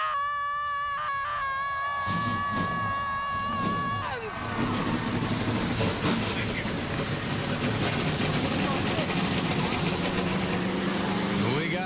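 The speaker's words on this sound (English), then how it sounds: "Drivers, start your engine!" Stock car engines firing up at a NASCAR race in Las Vegas, a dense mechanical roar swelling in after about four seconds and holding steady over crowd noise, with a tonal fanfare and an announcer's voice at the start.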